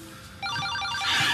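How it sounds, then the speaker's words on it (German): A telephone rings in a German radio drama, a bright repeating electronic trill that begins abruptly and continues close and clear, with no voices over it. "Telefon."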